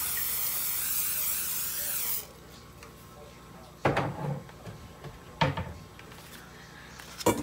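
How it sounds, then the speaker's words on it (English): A loud steady hiss of aerosol cooking oil sprayed into a baking dish for about two seconds, then quiet, followed by a few sharp clunks and knocks. "I'm gonna spray some cooking oil in this baking dish"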